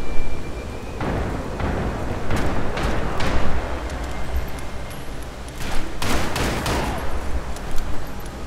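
Gunfire in Max Payne 3, a run of sharp shots and short bursts that come in loose clusters over a steady, noisy game backdrop.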